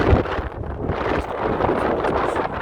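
Steady, broadband wind buffeting the microphone on a Target store rooftop, a continuous rushing roar with gusty fluctuations and no voices.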